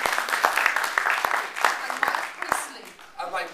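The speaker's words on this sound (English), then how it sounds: "you always applaud him at this point" An audience at a conference breaks into dense applause that swells and fades over a few seconds, with voices mixed in.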